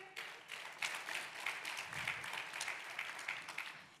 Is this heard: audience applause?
yes